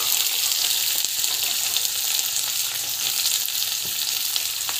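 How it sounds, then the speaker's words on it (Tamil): Onion and green chilli sauté in hot oil with chana dal, a constant close crackling sizzle with light stirring scrapes and no voices. "இந்த ஸ்டேஜில் ஆனியன், பச்சை மிளகாய் ரெண்டுத்தையும் வந்து ஆட் பண்ணிவிட்டு கொஞ்ச நேரம் வந்து வதங்கட்டும்"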